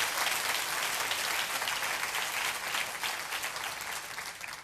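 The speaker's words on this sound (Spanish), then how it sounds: "Dele un aplauso al Señor." A church congregation claps together in a strong, dense burst of applause that holds steady and then slowly tapers off toward the end.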